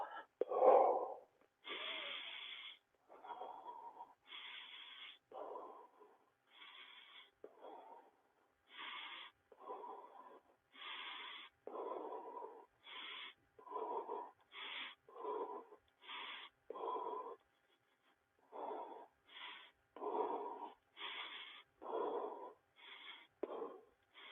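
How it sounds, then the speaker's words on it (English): Heavy, rhythmic breathing from someone exercising, close to the microphone, with steady, evenly spaced breaths that continue throughout with no other sound. "I'm breathing."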